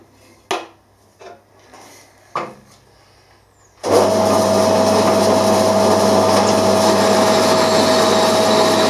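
A few sharp knocks and scrapes, then a steady loud whining drone as a 5mm cobalt drill bit grinds continuously into hard metal, running without pause to the end.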